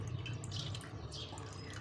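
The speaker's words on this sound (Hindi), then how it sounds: "अब इसको हमने छाननी में डाल के इसका पानी निकाल लेना है।" Water from blended ginger garlic paste with skins running through a kitchen strainer, a steady close trickle and drip over a constant low hum, no voices.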